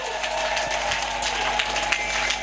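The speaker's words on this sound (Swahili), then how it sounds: "mpe Bwana vigeregere vyako na makofi ya viwango" A church congregation keeps up a dense, steady roar of applause with ululation mixed in, loud and continuous throughout.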